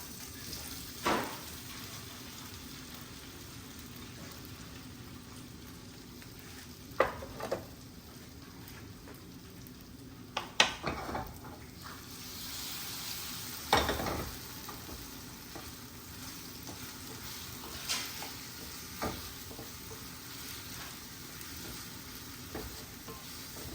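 Marinated paneer cooks in a pan, a soft continuous frying sizzle with occasional louder clinks and scrapes from stirring, fairly quiet and steady.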